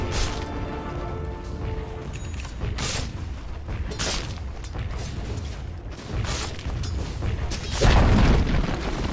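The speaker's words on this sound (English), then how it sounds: "Dire's bottom tower has fallen." A tower being destroyed in Dota 2, with rumbling booms, creaking mechanical crashes and a heavy collapse near the end amid busy game effects.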